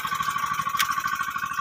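A small engine runs steadily and loud throughout, with a rapid pulsing low thump and a constant higher whine on top, close by and alone.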